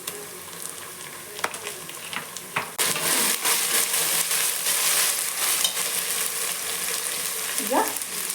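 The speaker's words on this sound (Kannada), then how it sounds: "ಗೋಲ್ಡನ್ ಬ್ರೌನ್ ಬರೋ ತನಕನೂ ಫ್ರೈ ಮಾಡ್ಕೋಬೇಕು ಈರುಳ್ಳಿನ." Onions fry in a pan with ginger garlic paste. A few stirring knocks come first, then a loud, steady sizzle jumps up partway through and hisses continuously to the end.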